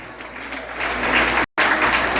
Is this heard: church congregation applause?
yes